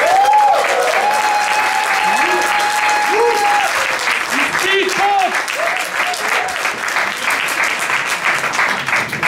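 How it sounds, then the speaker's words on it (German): A talent show crowd at a year-end final in the Pool Garden gives loud, steady applause that fills the room, while cheers and whoops rise over the clapping throughout. "bitte jetzt euer Applaus für Thomas Kornmeier"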